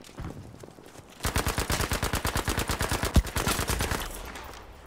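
Battlefield V gunfire in a tank-heavy Panzerstorm match, a rapid automatic burst of evenly spaced shots running steadily for about three seconds, loud and close, with one heavier crack near the end.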